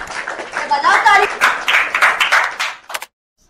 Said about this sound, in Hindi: ताली एक बार इनके लिए, ताली बजाओ ताली बजाओ ताली